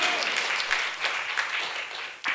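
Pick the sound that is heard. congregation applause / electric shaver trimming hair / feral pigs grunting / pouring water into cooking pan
congregation applause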